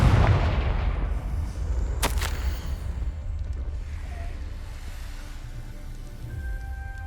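A Confringo blasting spell explodes in the video game Hogwarts Legacy, a sharp crack followed by a rumbling boom that fades into low ambient rumble and faint tones.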